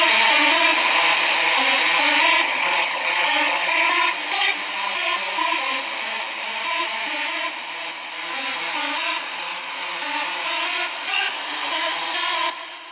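Hard trance hardstyle synth lead built from three layers, one panned left, one right and one centered, playing a loud, bright, buzzy melodic line alone, with steady sustained notes and no voices.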